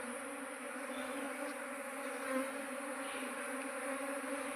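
Honey bees swarming out of their hive boxes, a steady dense insect hum with many overlapping wingbeats, fairly close and continuous throughout with no voices.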